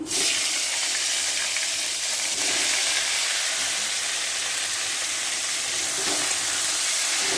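Raw green banana and papaya go into hot oil in a pan where fish has already been fried, producing a steady broadband sizzle and hiss that continues evenly throughout with no talking.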